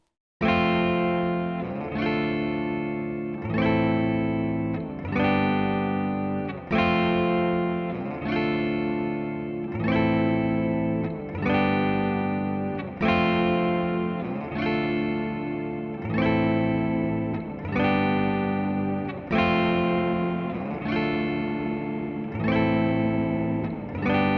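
A synthesized tone plays repeated notes about every two seconds through a Rev LX-24 reverb, each ringing out with a long reverberant decay tail that blends into the next.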